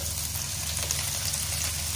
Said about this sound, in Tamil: இப்போ பட்டர் போட்டிருக்கோம் ஒரு பேன் வச்சு. பட்டர் நல்லா மெல்ட் ஆகும் ஃப்ரெண்ட்ஸ்